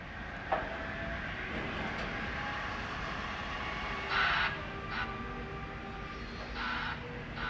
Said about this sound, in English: I caught Amtrak number 3, the Southwest Chief, making an extremely late arrival into Los Angeles.